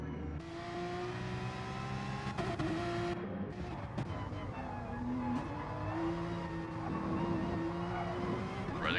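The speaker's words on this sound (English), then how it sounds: "This beautiful Gran Turismo Sport in-car cockpit view of the Porsche 911." A Porsche 911 race car in Gran Turismo Sport, heard from the in-car cockpit view during an online league race, gives a loud continuous engine drone with rising revs and gear shifts that runs throughout at close range.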